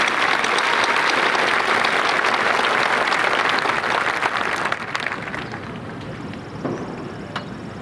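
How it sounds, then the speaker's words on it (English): A graduation crowd at a 2023 high school ceremony gives loud, sustained applause that fills the space, then thins and tapers off over the last few seconds as scattered claps remain. "Please join me in giving them all a round of applause."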